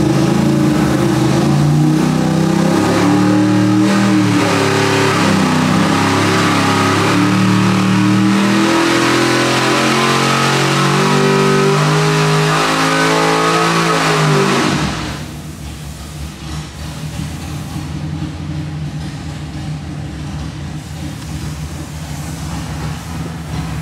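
A 1,000hp 632 cubic inch Smeding big block Chevy V8 on a dyno, held at a loud, steady high-rpm roar with rising harmonics for about fifteen seconds, then cut back to a low rumbling idle.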